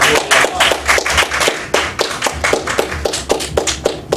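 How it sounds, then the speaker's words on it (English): Audience applause at a religious gathering: a burst of hand claps with fairly distinct individual slaps, close and loud, steady throughout with no talk over it. "You should give yourselves a round of applause."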